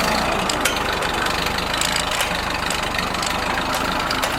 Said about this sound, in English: As you can see, without even giving it gas, the motor is nice and strong.